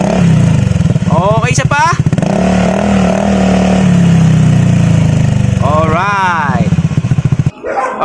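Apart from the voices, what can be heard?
Honda Beat FI motorcycle with Akrapovic muffler revving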